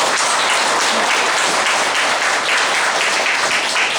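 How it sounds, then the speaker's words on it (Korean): Dense, loud applause from an audience at a shuttle-bus workers' union general assembly, steady sustained clapping filling the whole stretch with no voices over it. "힘차게 격려 박수 한번 보내주세요."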